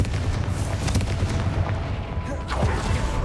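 A Confringo explosion spell from the Hogwarts Legacy video game goes off in dense, rumbling booms that fill the short stretch, continuous and loud with no talking.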